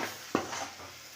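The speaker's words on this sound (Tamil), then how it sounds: "இப்போ வந்து இதை நம்ம மிக்ஸ் பண்ணி விட்டுக்கலாம்" Mutton chops with flat beans and sprinkled black pepper stirred in a pan, one brief scrape of the spoon over a soft, steady sizzle.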